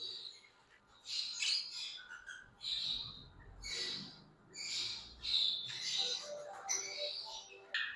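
Ringneck parakeets and violet parrots kept as breeder pairs call in an aviary, giving repeated shrill chirps and squawks in quick bursts, fairly near and moderately loud, with no talking.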